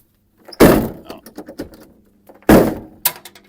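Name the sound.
old Peterbilt truck door being shut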